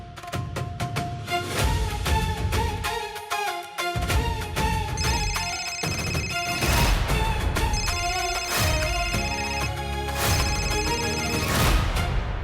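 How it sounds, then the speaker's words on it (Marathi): A mobile phone ringtone plays loudly and steadily, a melodic repeating tune filling the whole stretch, with no talk over it, heard in a household setting. "हे बघ आवाज येते का रिंगचा कुठं बघ."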